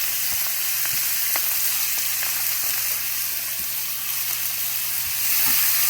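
Chopped red onion and garlic sautéing in a pan after chicken thighs have been cooked, a loud, steady close sizzle with occasional soft clicks of stirring and no talk.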